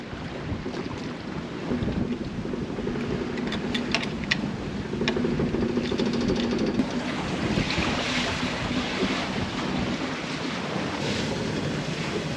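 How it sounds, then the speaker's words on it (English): Strong wind buffets the microphone while waves churn and slap in a spring-tide lagoon that is usually calm, a steady loud roar with no speech throughout. "the wind is crazy and the spring tide lends itself to very strong waves"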